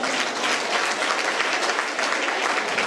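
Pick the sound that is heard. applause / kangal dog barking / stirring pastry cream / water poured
applause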